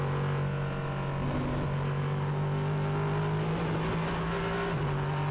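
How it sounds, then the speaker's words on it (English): A loud, steady race car engine roar at the Hockenheimring drones throughout with a strong low hum and slight pitch shifts, close and continuous with no voices. "we listen to the roar of that wonderful engine"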